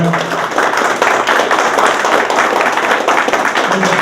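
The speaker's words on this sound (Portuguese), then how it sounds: "pedir aí uma salva de palmas para o companheiro Altamiro Borges." Applause from an audience at a political talk on the 2014 elections and the media, a steady wash of clapping hands that runs loud and dense for the whole stretch with no break.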